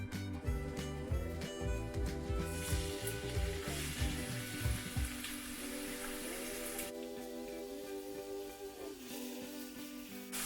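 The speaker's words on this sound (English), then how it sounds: "We will fry the onion until it changes the color and turn into light golden brown" Chopped onion frying in half a cup of hot oil in a pan, a steady broadband sizzle running throughout with stirring clatter and shifting tones in the first half, no talk.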